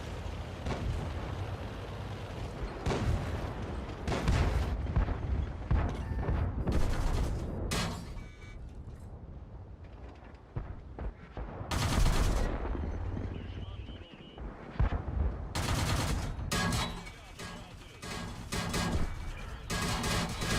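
Tank cannon fire in World of Tanks, heavy booming shots and explosions recurring every few seconds over a dense battle soundscape, with players talking throughout.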